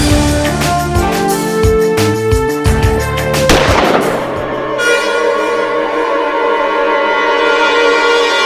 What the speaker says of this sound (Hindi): वरुण ये ले और गोली चलाओ